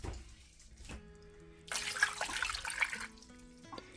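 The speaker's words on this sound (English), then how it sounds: "the next thing I'm going to add is a little bit of water" Water is poured from a container over frozen ribs in a cooking pot, a rushing splash that builds for about a second before tapering off, heard close by with no talking.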